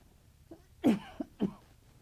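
A few short, throaty coughs close by, three bursts in quick succession with a quiet pause before and after.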